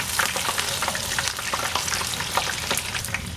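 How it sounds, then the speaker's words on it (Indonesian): Food frying in a pan with a steady, dense sizzle and crackle, close and continuous, with occasional stirring sounds and no talking. "Nih nggak sampai 1 menit mungkin saya gorengnya"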